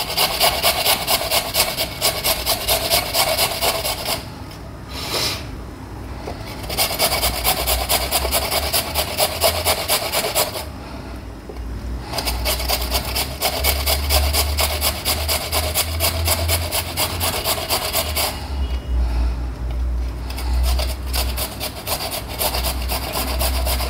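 Carrot being grated by hand on a grater for a yogurt raita, a steady rhythmic rasping scrape that repeats in long strokes with brief pauses, close and fairly loud with no talking.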